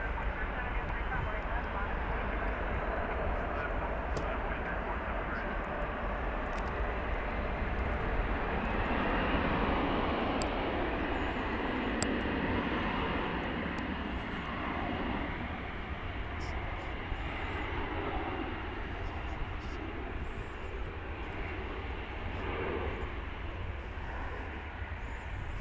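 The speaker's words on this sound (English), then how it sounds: "Flight 731, that's a 777," A Qatar Airways Boeing 777, flight 731 from Doha, rumbles steadily at DFW Airport with a low, continuous engine drone heard at a distance, while people talk over it.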